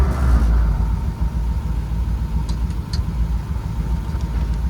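A 1940 Ford pickup engine catching and settling into a steady idle, a deep, close rumble that holds evenly throughout with a few faint clicks above it.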